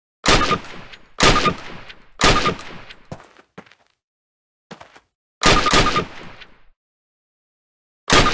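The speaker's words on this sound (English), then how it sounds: "Approach the fence and fire 6 rounds at your target" Rifle shots in Call of Duty (2003) ring out in four loud, evenly spaced single shots, each with a short metallic ring-off, then a pause, two faint clicks, another shot and the start of one more.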